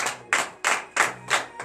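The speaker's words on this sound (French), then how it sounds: "Donnons de l'acclamation à l'Éternel." A church congregation at morning prayer claps together in praise, five strong, evenly spaced rhythmic claps in unison at roughly three per second, close and loud.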